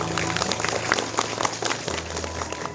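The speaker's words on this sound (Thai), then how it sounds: "ขอเสียงปรบมือด้วยนะคะ" An audience claps at a Thai International Literacy Day commemorative award ceremony in 2024, producing a dense, steady patter of applause that fills the whole moment over a faint background hum.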